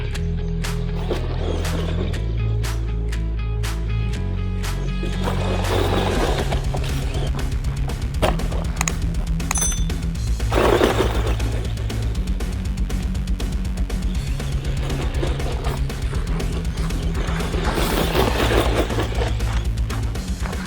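A Bezgar HP161 1/16-scale brushed 4x4 RC monster truck tears through dirt and thick weeds, its small electric motor whining steadily under a dense, gritty crackle of debris, close and continuous with no talking.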